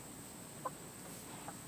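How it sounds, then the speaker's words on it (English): Laying hens give two faint, brief clucks, about a second apart, over a steady background hum. "I think I've got 4 laying hens."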